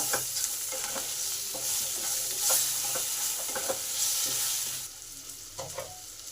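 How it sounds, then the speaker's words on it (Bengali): Potatoes seasoned with salt and turmeric are stirred in a hot pan, producing a steady sizzle broken by repeated rhythmic scrapes of a spatula, easing slightly quieter toward the end. "নুন আর হলুদটাকে আলুর মধ্যে ভালো করে মিশিয়ে দিলাম"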